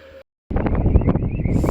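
Wind blows outdoors near a 10kW wind turbine, a loud, close buffeting rush hitting the microphone after a brief silent gap.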